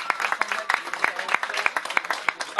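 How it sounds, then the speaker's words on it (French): Telethon audience applauding the swimmers, a lively stretch of sharp individual claps spread across the room, sustained without a break. "Merci de les applaudir très très fort."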